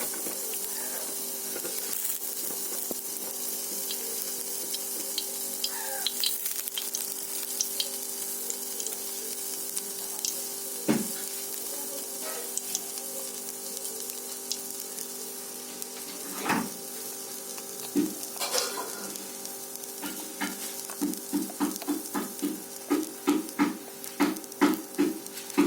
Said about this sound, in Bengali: তো বন্ধুরা আমি কড়াইতে অল্প করে একটু তেল দিয়ে দিচ্ছি।